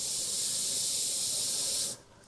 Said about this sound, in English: kind of move that around as you're spraying it